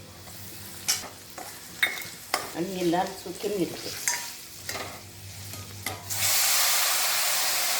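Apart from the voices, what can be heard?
spices sizzling in tempering oil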